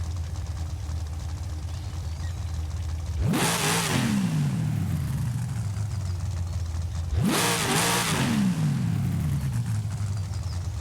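Car engine in Forza Horizon 5 idling with a low rumble, then two sharp revs a few seconds apart, each climbing quickly in pitch and falling back, loud and close with no talking.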